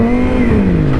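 A Yamaha R6 motorcycle with a quickshifter accelerates hard, a loud, steady engine roar that rises in pitch and then dips briefly as a gear shifts, all within about a second.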